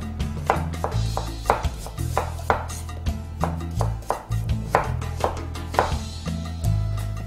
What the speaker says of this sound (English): And the quarters I'm gonna slice into slices about 1/4 inch thick.